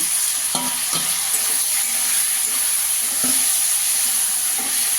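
Potatoes frying with onions and grated tomato for ghugni: a constant close sizzle broken by several brief scraping stirs of a spatula, with no one talking.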